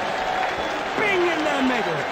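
A darts crowd at the PDC World Championship applauds a checkout, a sustained wash of clapping and cheering under a commentator talking over it.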